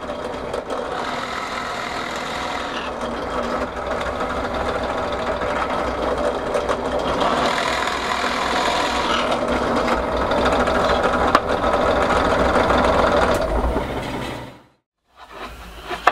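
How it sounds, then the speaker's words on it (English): Drill boring holes into an oak tapestry-hanging batten with the depth stop set, a steady loud whirring grind running continuously for about fourteen seconds before cutting out abruptly. "So we'll just drill them out and we'll get on"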